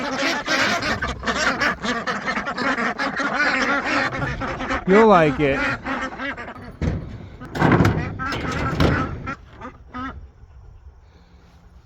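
Ducks quacking and honking inside their new house on a small homestead barnyard, with repeated close calls amid rustling and a door-like slam, while a person talks over them.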